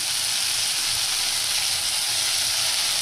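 Drained dried prawns frying in a pan, a loud, close, unbroken hissing sizzle with faint low bubbling underneath, no voices.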